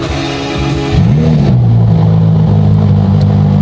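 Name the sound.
Ferrari engine cold start revving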